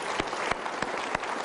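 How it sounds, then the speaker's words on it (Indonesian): An audience at an Indonesian motivational seminar claps steadily, with a wash of crowd applause marked by evenly spaced, louder hand claps. "Kita berikan tepuk tangan."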